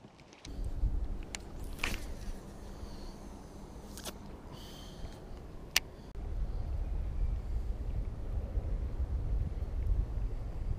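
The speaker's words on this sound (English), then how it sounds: "Stupid wind." Wind rumbles and buffets the microphone outdoors on a fishing trip for striper, a steady low roar with a few faint knocks and clicks, no talking.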